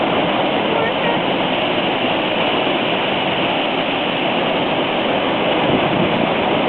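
Coal Creek waterfall in a Bellevue wilderness area pours with a loud, steady roar of rushing water, a dense unbroken wash that stays even and close throughout.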